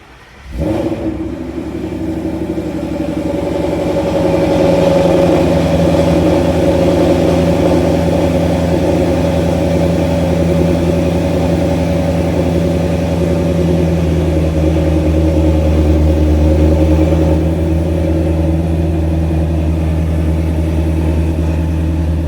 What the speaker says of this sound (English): So we can hear a cold start.